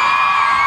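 A crowd screams and cheers for a presenter at a Thai product campaign launch event: a brief, dense, loud burst of high-pitched shrieking that fills the whole moment.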